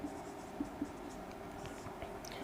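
A pen scratches softly across paper while a formula is written for a geography lesson, a faint, continuous close-up sound with a few light taps.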